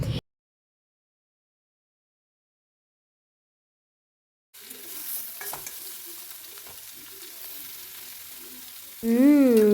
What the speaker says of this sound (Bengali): এদিকে আমি শুকনো লঙ্কা ফোড়ন দিয়ে আলুগুলোকে ছেড়ে দিলাম